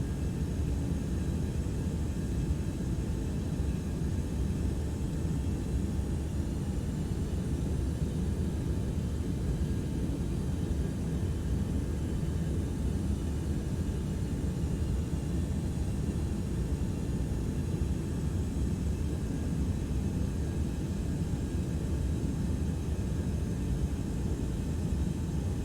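Inside the cockpit of a Boeing 727 freighter in flight, a loud, constant engine and airflow drone holds steady throughout, with no voices.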